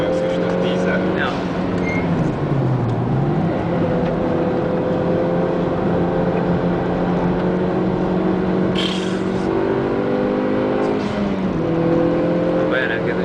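Toyota Corolla racing around the Hungaroring circuit during a track day, its steady engine drone rising and falling through gear changes and loud throughout, with people talking over it.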